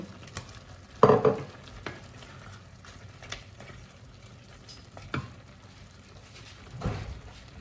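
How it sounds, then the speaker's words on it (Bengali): Fish heads go into a pan of nearly cooked food and fry with a low, soft sizzle, with a few louder bursts of spatter and stirring scrapes. "এবার এতে মাছের মাথাগুলো দিয়ে দিই মোটামুটি রান্না হয়ে গেছে"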